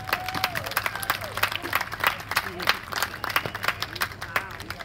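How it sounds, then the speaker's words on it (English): Crowd applause at a climbing competition, rapid uneven clapping and scattered cheers from spectators, with voices talking through it and a steady low hum of the venue underneath. "Give them both a big round of applause."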